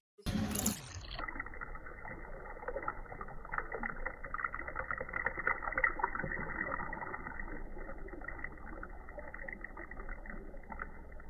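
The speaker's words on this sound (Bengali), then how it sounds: "মাছটা প্রথমে আমি ধুয়ে নিচ্ছি।" Hilsa fish being rinsed in water, a steady close splashing and sloshing that continues evenly after a sharp clatter at the start, with no talking.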